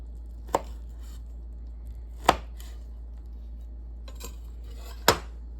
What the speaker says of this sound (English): what it's like if I cut them in crossways slices